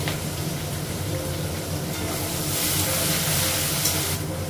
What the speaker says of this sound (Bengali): আলুটাও দিলাম, আলুটা পেঁয়াজটা একসঙ্গে ভেজে দিলাম।